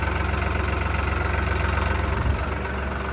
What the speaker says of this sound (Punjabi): ਗੱਡੀ ਕਰ ਲਈ ਆਪਾਂ ਸਟਾਰਟ ਟਰੈਕਟਰ